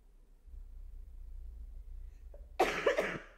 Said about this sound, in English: Just wanted to get a good cough in